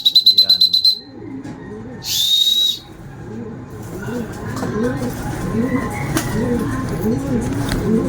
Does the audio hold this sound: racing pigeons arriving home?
yes